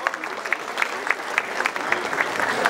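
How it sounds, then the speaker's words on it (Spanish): Audience clapping on stage as a professor is welcomed at a silver anniversary celebration, a steady patter of hands with a few louder claps standing out, fairly close and continuous. "Lo recibimos con aplausos, por favor."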